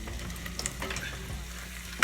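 Vegan bacon cubes sautéing in a butter mix, a steady close sizzle and frying hiss with occasional stirring clatter, no voices.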